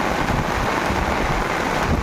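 Heavy rain pours steadily in Mayurbhanj, Odisha, a dense, continuous broadband wash with low rumbling undertones that could be wind or distant thunder, loud and unbroken with no voices.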